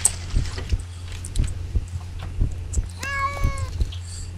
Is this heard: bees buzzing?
no